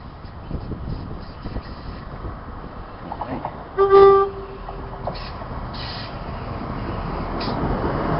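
A Chiltern Railways Class 168 train sounds a single short two-tone horn blast at Banbury station, mid-distance over rumbling rail and ambient noise.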